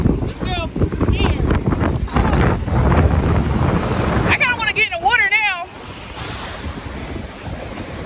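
Ocean surf washing on a beach with heavy wind buffeting the microphone, while people talk and shout nearby.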